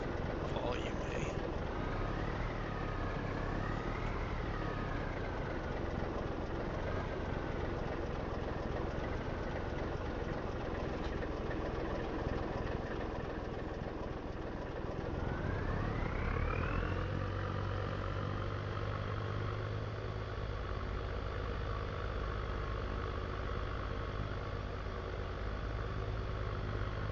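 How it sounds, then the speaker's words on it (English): A truck engine idles in the video game Farming Simulator 25, a steady low drone with a couple of rising and falling pitch swells, the second shifting into a higher steady hum partway through. "Same truck, different sound setting, and it's totally different"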